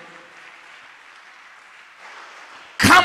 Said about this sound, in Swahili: Na washindi wachache wampe Yesu makofi yanayoeleweka.